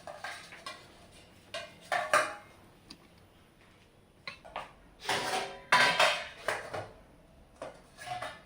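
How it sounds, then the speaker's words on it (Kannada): Freshly wiped kitchen pots and vessels are set down and stacked into storage containers, giving a series of sharp metallic clinks and clatters in irregular bursts, fairly close, with quiet gaps between. "ಎಲ್ಲ ಪಾತ್ರೆ ಸ್ವಲ್ಪ ಒರೆಸಿ ಡಬ್ಬಾಕುದ"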